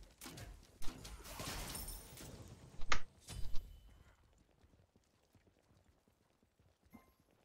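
Horse hooves clip-clopping in the video game Smite, a quick run of close hoofbeats that fade into near silence, with a few sharper clattering hits and no talk.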